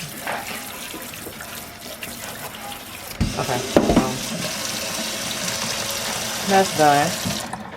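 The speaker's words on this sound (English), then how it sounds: "I usually wash out my sink after I wash dishes because you know food and stuff." Tap water running into a kitchen sink as it is rinsed out, a steady close-up rush with splashes and clatter, while someone speaks briefly over it.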